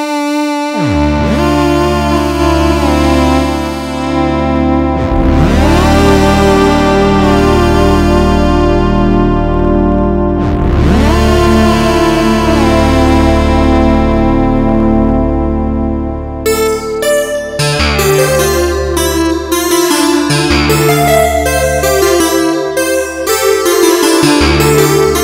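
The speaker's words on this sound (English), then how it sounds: "new wavetable analog synthesizer called M" Waldorf M wavetable analog synthesizer played dry without reverb or delay, long evolving chords with swelling attacks giving way to a busier rhythmic sequenced pattern, loud and steady.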